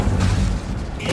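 A spell impact in Hogwarts Legacy, a short loud booming burst with a rumbling low end and a bright crackling tail.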